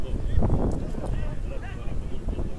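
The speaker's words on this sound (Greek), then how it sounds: "Αρκετός αέρας εδώ στο γήπεδο του Ρουφ." Strong wind buffets the microphone at an outdoor football stadium during an amateur match, a continuous loud rumbling roar with gusty swells and a muffled voice underneath.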